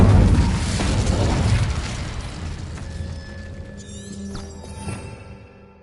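An Incendio fire spell is cast in a Harry Potter video game, starting with a loud, rumbling fiery whoosh that slowly fades, followed by sparkling, ringing magical tones and chimes as it dies away.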